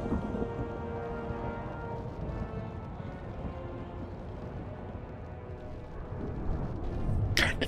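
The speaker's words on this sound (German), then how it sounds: "Schlimm ist, ich höre hier am Headset im Hintergrund immer so ein Gewitter." Thunderstorm ambience from the World of Warcraft: Shadowlands game world, heard through a headset: a steady wash of rain with low rumbling thunder running continuously in the background, swelling slightly toward the end.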